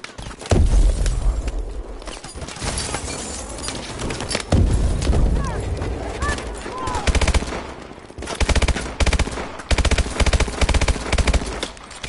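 Rapid bursts of automatic gunfire ring out in a shooter video game mission, loud sustained volleys broken by short pauses, with a faint voice underneath.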